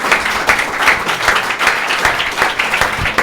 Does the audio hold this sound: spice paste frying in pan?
no